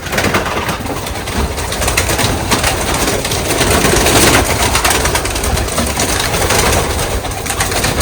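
Pigeon cooing near the microphone while the bird is held in hand, a steady soft murmur of coos running through the clip over a constant background hiss.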